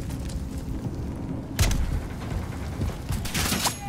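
Enemy gunfire in a video game, distant crackling volleys under a low rumble, with a sharp loud burst midway and further rattling shots near the end.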